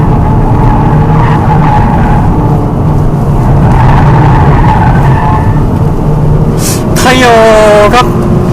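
Tires on a Hyundai Avante AD Sport with a manual gearbox squeal sharply while cornering during spirited driving, a loud rising-and-falling screech near the end over steady engine and road noise, with people talking throughout.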